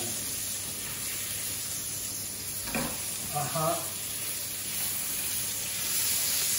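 Chorizo beef burger patties sizzle steadily in a hot pan, a loud continuous hiss broken by a brief clatter as they are turned, with a short voice in the middle.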